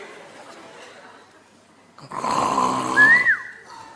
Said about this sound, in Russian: Да точно она храпит.